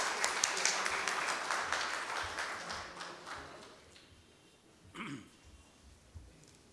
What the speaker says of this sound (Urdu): please please sir, تالیاں تالیاں